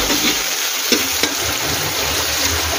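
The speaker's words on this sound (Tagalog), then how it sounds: "Igisa lang natin itong ating kamatis bago natin ilagay yung ating" Tomatoes sautéing in a pan before mussels go in, a steady loud sizzle with a few soft clinks of stirring, no talking.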